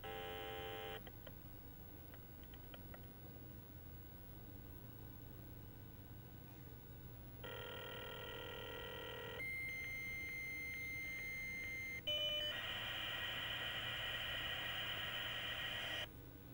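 A dial-up modem connects to the MSN server on Windows 95, giving steady tones and dial beeps followed by harsh buzzing handshake screeches and hissing noise bursts, alone and fairly loud.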